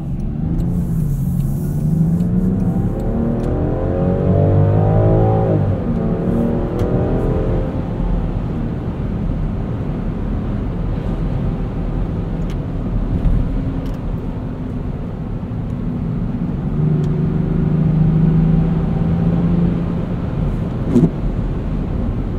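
A 2024 Land Rover Defender 130 Outbound accelerates from inside the cabin, engine note climbing through a couple of gear changes before settling into a steady cruising drone with road noise.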